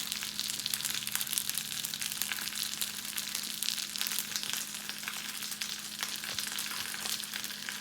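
An Aldi Korean beef udon noodle kit frying in a pan, giving a steady, soft sizzle and crackle with a faint low hum underneath and no talking.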